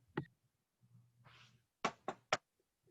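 Knocking on a door during an improv comedy performance: one sharp rap, a short pause with a low murmur, then a quick run of three firm knocks.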